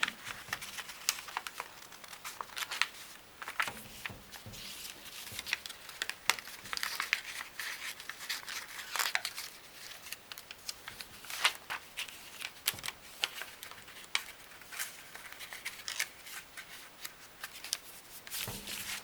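Paper repeatedly folded, creased and snipped with scissors while making a fractal tree card; quiet, close crinkling and rustling punctuated by sharp little cuts at an irregular pace.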